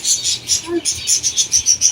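Small birds chirp at a bird market in Madina, with repeated high, rhythmic tweets close by and a faint voice partly under them.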